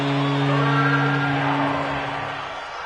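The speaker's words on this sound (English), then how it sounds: "Here comes a big one as this crowd gets up making some noise." Stadium crowd noise roars in a PS4 football video game, a loud sustained wash of cheering with a low droning tone underneath, gradually easing in volume.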